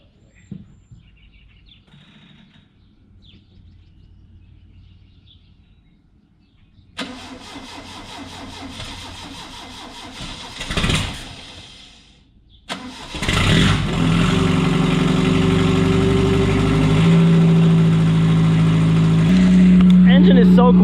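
A 1972 Opel GT long parked in a junkyard cranks briefly, then fires up and settles into a steady, loud idle, with a voice heard before it catches.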